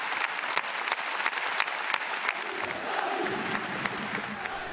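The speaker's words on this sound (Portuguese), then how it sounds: "O silêncio no estádio foi substituído por uma enorme salva de palmas" A stadium crowd at a Fiorentina football match applauds in tribute, a dense and continuous roar of clapping that carries across a large open space, with sharp individual claps standing out.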